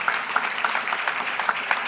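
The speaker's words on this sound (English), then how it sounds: "So how about a round of applause for my colleagues?" Steady audience applause fills a hall at a 2016 education award gala, many hands clapping in a dense, even wash at moderate distance for the whole stretch.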